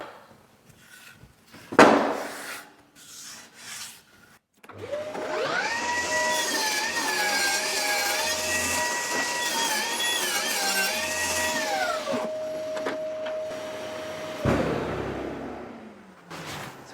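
A table saw cuts a rebate into a piece of timber, the blade spinning up and then holding a steady, loud whine for several seconds before spinning down, with a few knocks and handling sounds around it.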